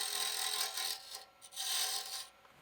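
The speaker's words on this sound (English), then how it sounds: "I simply like to take a square tool, drive it in that way." A square tool cuts into a narrow piece of wood spinning on a lathe, making a steady, bright rasping hiss that dips briefly twice before resuming, close and continuous.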